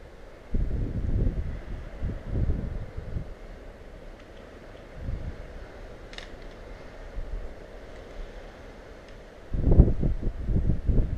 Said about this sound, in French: il y a plein de vent quand même